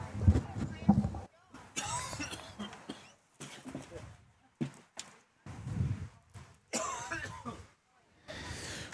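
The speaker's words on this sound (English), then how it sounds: "he's been putting up with a bad cough lately" A man coughs and clears his throat in repeated bursts during a lawn bowls morning, with talk between the coughs, close and fairly loud.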